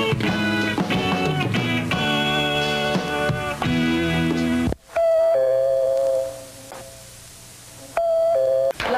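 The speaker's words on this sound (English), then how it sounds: "rang the doorbell a couple of times and there wasn't any answer." A doorbell rings with tonal chimes against music, then a second set of sustained electronic ding tones sounds clearly after a brief break.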